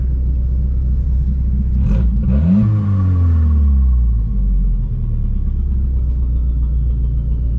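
A Volvo 740 engine idles with a rumbling, uneven note, revs up briefly, then settles back into a rough, lumpy, chuggy idle.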